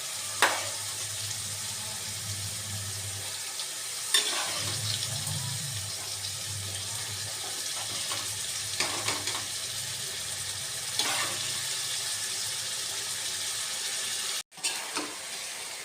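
Steamed potatoes and green peas tipped into hot spice masala in a pan, giving a steady close sizzle with a few clunks and stirring scrapes, and a low hum in the background.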